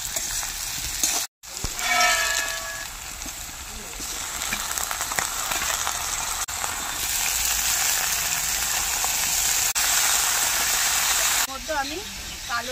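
Steady, dense sizzling and frying of mixed vegetables with ash gourd stems and fried lentil dumplings in a pan, with occasional stirring scrapes and a brief break near the start.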